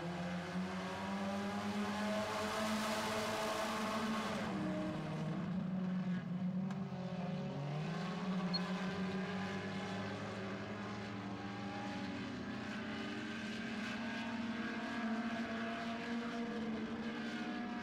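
Four-cylinder race cars at a heat race, a pack of engines roaring steadily with rising and falling pitch as they pass, loud and continuous throughout.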